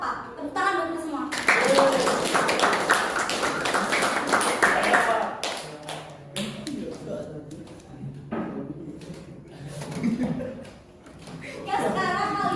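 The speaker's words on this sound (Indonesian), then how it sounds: "Tepuk tangan buat kita semua." A classroom of students bursts into clapping for a few seconds, then scattered claps, taps and chuckles continue while a teacher and children talk over the room.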